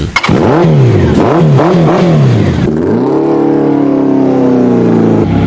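A motorcycle engine revs hard in a series of rising and falling throttle blips, then settles into a loud steady drone, close and dominant with no talk.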